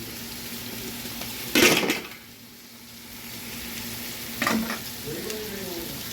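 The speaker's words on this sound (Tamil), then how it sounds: "வெங்காயம் வதங்கிட்டு ஜீரகம் இஞ்சி பூண்டு பச்சை மிளகா எல்லாம் சேர்த்துருக்காங்க" Onion, cumin, ginger-garlic and green chili stir-frying for mutton pilaf rice: a steady close sizzle with two sharp bursts of scraping and stirring, a brief quieter lull between them.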